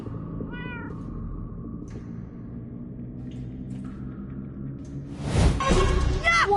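Cat meows sound in the Minecraft Story Mode video game, a few faint calls over a droning, humming game soundtrack, followed by a sudden swelling whoosh of noise.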